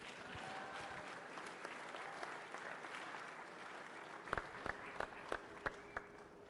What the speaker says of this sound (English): Please help me in giving one more round of applause for our Section D proficiency